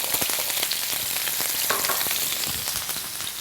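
Fresh garlic and thyme sizzle steadily in a hot steak pan, a bright, continuous crackling fry with occasional sharper pops, close and moderately loud with no voices.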